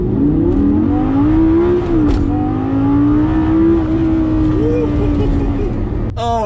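A VW Golf R on an all-out 0-60 launch with traction control off: the engine note rises steadily and loudly under acceleration, close and continuous, then a sharp shift or bang at the end.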